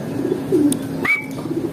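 A visiting pigeon coos close by in soft, low repeated notes, with a short higher chirp breaking in near the middle.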